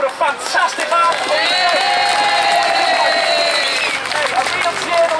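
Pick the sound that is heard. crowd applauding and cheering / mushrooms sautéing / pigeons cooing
crowd applauding and cheering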